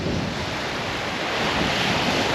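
Strong wind gusting across a shingle beach by the sea at Southbourne, a dense continuous roar of microphone buffeting mixed with breaking surf, loud and unbroken with no talk.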